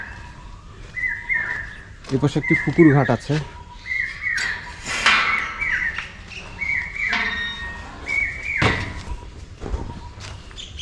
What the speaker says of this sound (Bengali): চারপাশে পাখির কিচিরমিচির শুনতে পাবেন আসলে।